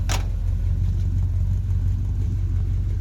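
A 1977 Chevy truck with a small-block 400 V8 runs steadily, giving a loud, continuous low rumble with no talking over it.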